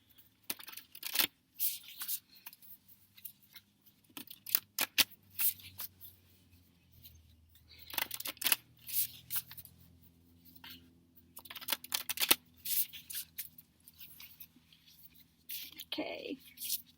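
Sacred Destiny oracle cards are shuffled by hand in repeated crisp bursts of riffling and sliding, close and fairly soft, with quiet speech murmured between the bursts.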